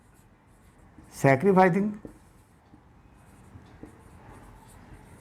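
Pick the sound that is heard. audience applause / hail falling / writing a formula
writing a formula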